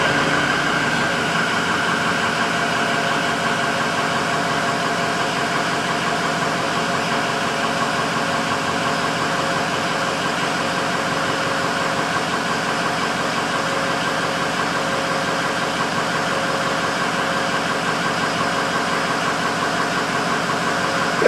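A 6.0 diesel engine idles steadily nearby, its even low rumble and faint whine holding unchanged for about twenty seconds.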